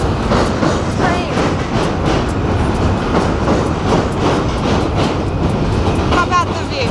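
A train running on rails in Brooklyn, a loud, steady rumble with rhythmic clickety-clack beats throughout and a faint voice underneath.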